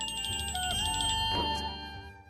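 Telephone ringing indoors during a haldi ceremony in a TV serial, a repeating electronic ringtone pattern sounding steadily through the whole stretch, fairly loud with background music-like tones underneath.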